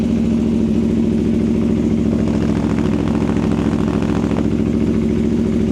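Aprilia Tuono V4 1100 Factory motorcycle with a V4 engine, running loud and close with a steady idle-like throb and slight rising revs, alone without talk.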